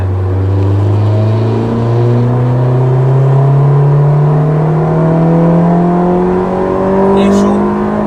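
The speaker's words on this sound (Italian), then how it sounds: "Anche adesso sentite, a 2500 giri sto dando un filo di gas" A Honda S2000 with an RS Tuning exhaust drones steadily under light throttle at about 2500 rpm, its low tone climbing slowly as the car pulls, heard from inside the cabin.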